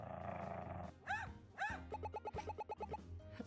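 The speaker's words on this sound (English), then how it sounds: "The dog is scaring me." Krampus the dog barks in the video game Paper Perjury: a couple of loud, growly bark bursts followed by a quick rhythmic series of sharp yaps, over faint game music.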